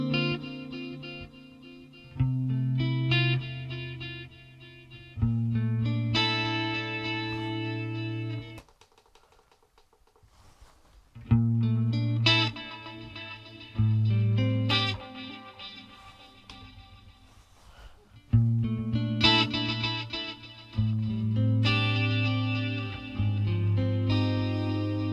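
Electric guitar run through delay effects on a Fractal unit, played in bursts of phrases with repeating echoed notes trailing off, with a short quiet gap in the middle and no talking.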